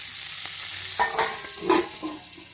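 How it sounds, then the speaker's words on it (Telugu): Oil goes into a hot pan on a home stove and sizzles steadily up close, with a few brief metallic scrapes and clinks over the hiss. "ఆయిల్ వేస్తున్నాం ఫ్రెండ్స్ అలాగే దీని ఒక ఆరు నిమిషాలు మూత పెడతాం"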